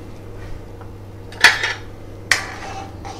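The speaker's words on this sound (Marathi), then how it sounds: "मिठाला मिक्स करून घ्यायचंय" A spoon stirs salt into boiling water in a metal pot while making Maharashtrian besan patodi bhaji, giving two sharp metallic clinks against the pot over a low steady hum.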